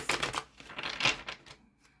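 Tarot cards are shuffled close up in a quiet room, producing a quick series of soft riffling and snapping bursts that fade out toward the end.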